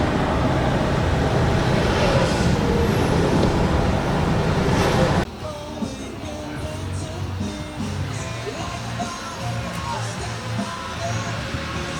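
Steady road traffic rumble heard from inside a moving car on the approach to Atlanta, loud and continuous, shifting abruptly about halfway through to a quieter, lower engine and tire drone with faint intermittent sounds.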